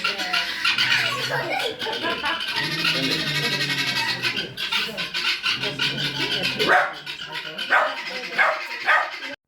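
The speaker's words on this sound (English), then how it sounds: "The dog barked at them and they flew away." A farm dog barks outdoors in a few sharp bursts amid birds squawking and flapping away, with talk running over much of the scene.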